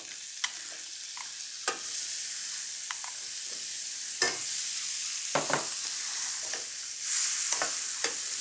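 Chopped onion fries in melted margarine for a vegan meat loaf, a continuous close sizzle broken by repeated scraping strokes of a utensil stirring the pan.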